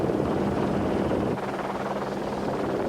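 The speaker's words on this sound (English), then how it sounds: "his is Eddie Orioli on the Albatross Cagiva, giving a thumbs up to the Eurosport helicopter." The Eurosport helicopter flies over the 1993 Pharaohs Rally Raid stage, its rotor a loud, steady, close chopping drone throughout.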